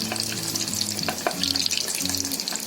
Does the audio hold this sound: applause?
no